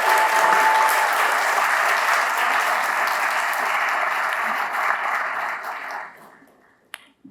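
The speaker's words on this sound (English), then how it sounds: "A big applause to our volunteers, our candidates, staff who made the time today." Sustained audience applause at an all-candidates town hall, dense and steady for about six seconds before thinning out, with a few scattered final claps trailing into near silence.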